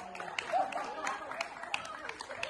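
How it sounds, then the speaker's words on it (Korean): Scattered clapping and cheering from an audience at a badminton fellowship tournament, a busy crowd texture with sharp claps rising over background chatter and voices, moderately loud and close. "박수 주세요"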